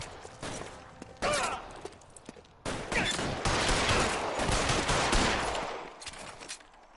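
Bursts of rapid gunfire in the video game L.A. Noire crackle in uneven volleys, loud and close, with brief pauses between them and no speech.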